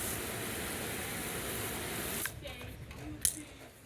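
A garden hose nozzle on its flat setting sprays steadily with a broad hiss for about two seconds, then cuts off, leaving quieter rustling and a brief sharp click.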